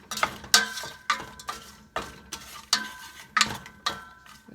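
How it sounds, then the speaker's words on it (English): A spoon scrapes and stirs through pecans with ginger and spices in a pan, giving a steady rhythm of about seven gritty, clattering strokes, close and alone. "Let's stir this in a little bit."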